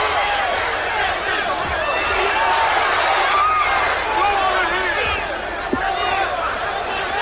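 Spectators at UFC 1 in 1993 roar and chatter in a steady, loud, dense wash of crowd noise that carries through the whole stretch with no break.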